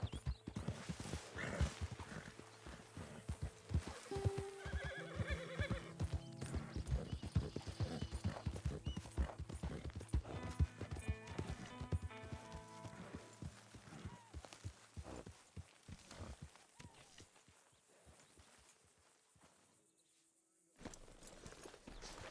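Horse hooves clip-clopping at a brisk gait in Red Dead Redemption 2, a loud rhythmic pounding with snorts and a whinny, fading to near quiet before hoofbeats resume at the end.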